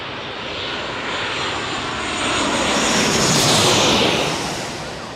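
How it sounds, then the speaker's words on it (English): A Southwest Airlines airliner arrives at San Diego's airport, its engines a broad, steady roar that swells as it passes close by and then eases slightly, with no voices. "Southwest Airlines arriving here"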